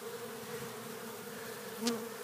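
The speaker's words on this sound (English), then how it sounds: "And I got bees all over me, but they're not doing anything." Honeybees at a feeding station buzz steadily close by, a soft continuous hum with one insect droning louder as it passes near.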